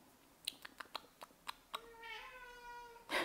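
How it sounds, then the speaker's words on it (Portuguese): Domestic cat giving a clear, drawn-out meow after a series of soft clicking and tapping sounds, close and fairly quiet, with no talking. "é os gatos que mia"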